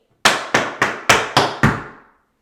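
Tap dance shoes striking a floor in six sharp, evenly spaced metallic taps, a quick spank, ball change, step, scuff and heel sequence, each with a short ringing decay, close and clear with no talking.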